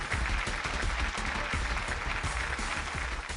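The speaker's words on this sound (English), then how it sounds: "Can you all give me a loud cheer for all the 16?" Quiz show audience at the Ascent Engineering Mastermind Quiz cheering and applauding for contestants, a dense, steady wash of clapping and cheers held loud throughout.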